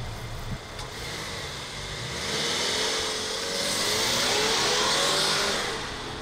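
An Opel Insignia 2.0 4x4 pulls away from a standing start on winter tyres, its engine note rising steadily as it accelerates, heard from a distance over a broad wash of road and wind noise.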